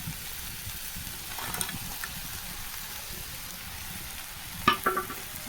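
Dried fish (shutki) frying in oil in a pan, a soft steady sizzle with a brief louder spatter near the end, no talking.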